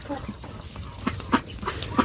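A big male duck gives a few short, rough quacks spaced unevenly through a brief moment, close by, with a person talking alongside.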